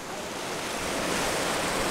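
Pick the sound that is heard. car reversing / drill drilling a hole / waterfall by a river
waterfall by a river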